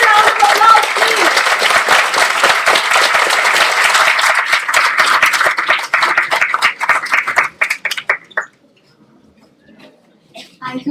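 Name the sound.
louder round of applause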